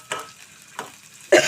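Chopped onions sizzling in a pan, stirred with a spoon for brinjal curry: three short scraping stir strokes over a soft, steady sizzle, the last one louder and closer.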